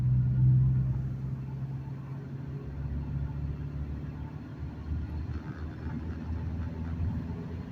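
A manual-transmission car pulls away in first gear, its engine giving a steady low rumble that swells slightly at the start and holds at an even level throughout, close and continuous with no talk.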